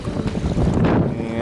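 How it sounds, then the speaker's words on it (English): Gusty wind buffets the microphone on a kayak during a fishing trip out of Yankeetown, a loud, rumbling low roar with fluttering bursts throughout the short stretch. "Looks like it's going to be really windy again today."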